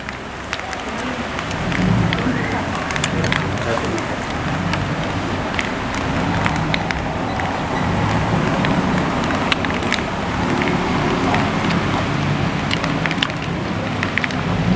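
Rain falls outdoors in a steady, dense patter with scattered sharper drips and taps on nearby surfaces, continuous and close throughout with no talk.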